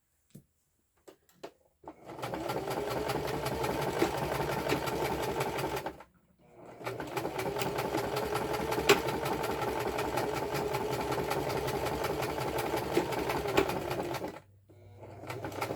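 A sewing machine stitches fabric scraps in two long continuous runs, a steady close mechanical whir with short pauses and light clicks before, between and after.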